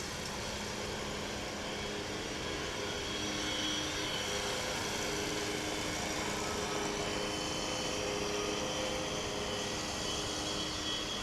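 A heavily laden trans-Pacific airliner at DFW airport, carrying a full load of fuel, passengers and cargo. Its engines make a steady, loud, continuous roar with a whining tone, and no one speaks.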